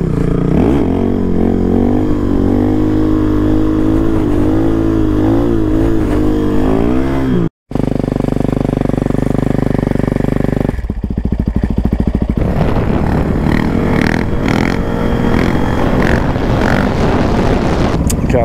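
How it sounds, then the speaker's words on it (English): A Yamaha WR450 dirt bike ridden at speed, its engine droning loud and close with rising and falling revs, heavy wind buffeting, a brief dropout, then rougher engine clatter. "And I'm gonna be on my dirt bike."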